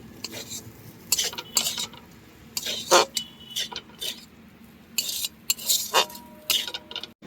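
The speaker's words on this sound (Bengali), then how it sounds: "দিয়ে দিচ্ছি ধনে গুঁড়ো জিরে গুঁড়ো এবার ভালো করে এটাকে কষিয়ে নেব" Ground coriander and cumin frying in a pan with other spices for a pointed gourd curry, irregular clinks and scrapes of a metal spoon against the pan over a low sizzle, no voices.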